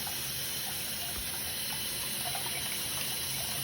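Tap water runs steadily into a sink while a baby bottle straw is rinsed, a constant close hiss and splash with no talking.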